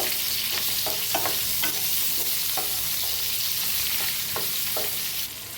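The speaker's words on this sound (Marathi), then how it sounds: "त्याच्यात टाकूया एक चमच्याभर जिरं हिंग कांदा आपण कापून घेतलेला आता छान असं भाजूया" Chopped onion frying with cumin seeds and asafoetida in hot oil, a steady close sizzle broken by the scrape and clink of a stirring spoon several times, with no voices.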